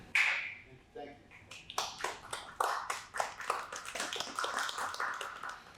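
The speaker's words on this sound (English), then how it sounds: "the applause is premature" Audience applause at a chamber meeting, scattered claps building into a dense run of hand claps, moderately close and fairly faint, with a short ringing tone at the start.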